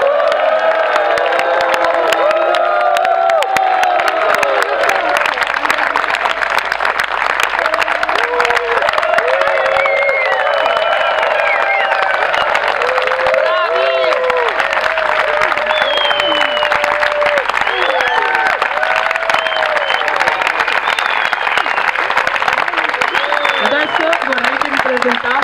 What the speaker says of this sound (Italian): con un grande applauso e magari anche un suono di incitamento, accogliamo il nuovo direttivo